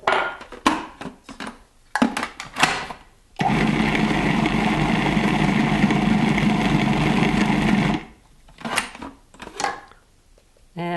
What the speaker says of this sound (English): We want the food processor to be doing the kneading work rather than me.